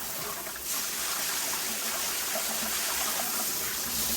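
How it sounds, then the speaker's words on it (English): Water drains steadily down a freshly unclogged shower drain, a soft, continuous trickle heard close and fairly quiet, with no voices over it. "Seems to be draining."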